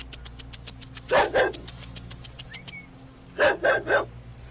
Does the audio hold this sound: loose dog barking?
yes